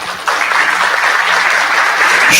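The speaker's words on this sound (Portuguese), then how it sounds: "Uma salva de palmas para o Márcio" Applause from an audience at a data engineering talk, a dense steady wash of clapping from many hands that swells at the start and carries evenly to the end.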